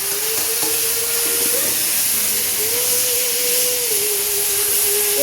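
Vegetables poured into hot oil already holding five-spice seeds, dried red chillies and fried lentil dumplings give off a loud, steady hiss of sizzling that runs evenly throughout, with a faint tonal whine riding above it.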